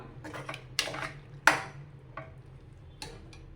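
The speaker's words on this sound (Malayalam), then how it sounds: "അപ്പം നമ്മൾ ഉരുളൻകിഴങ്ങും ഒക്കെ നന്നായി ഉടച്ചെടുത്തു" Boiled potatoes mashed in a pan for a Kerala coffee-house style masala dosa filling, heard as a few separate clanks and scrapes of utensil against metal with quiet pauses between them.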